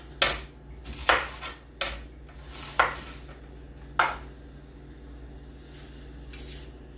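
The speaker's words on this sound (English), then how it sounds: "And slice up the" A knife chops through an onion in a handful of crisp, separate cuts on a board, close by, with quiet pauses between strokes.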